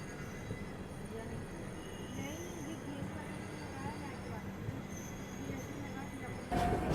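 The Kongu Express rolls slowly into Kacheguda station in Hyderabad with a steady low rumble of wheels and carriages heard from on board. Voices murmur faintly in the background, and a brief clatter comes near the end.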